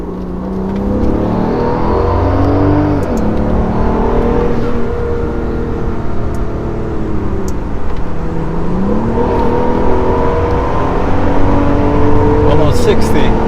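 A Brabus S650 engine drones loudly and continuously, its pitch climbing and dropping as gears change on downshifts, with someone talking over the sound throughout.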